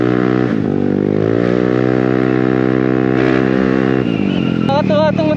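A 2022 Italjet Dragster scooter fitted with an Akrapovic titanium exhaust and Malossi CVT kit runs loud and close, its engine holding a steady drone that rises in pitch, dips, then climbs again near the end.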